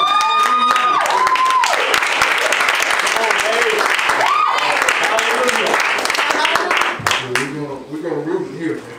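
A crowd at a Black History program applauds and cheers loudly and continuously, with whoops over the clapping before it thins out near the end as a voice speaks.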